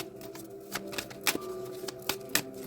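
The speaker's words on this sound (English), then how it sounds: "Let me shuffle the deck." A deck of cards being shuffled, a rapid riffle of crisp flutters and clicks over a steady background hum, close and brief with no talk.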